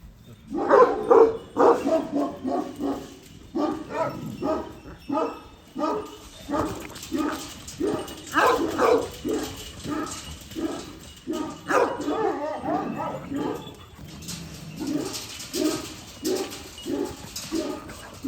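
Young Kangal dogs bark excitedly in a rapid, overlapping series of close, loud barks and yips, with occasional whimpers and a few voices in the background.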